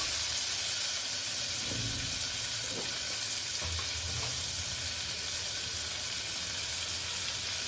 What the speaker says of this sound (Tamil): நல்லா சுருளை சுருளை வதக்கிங்க வெங்காயத்தை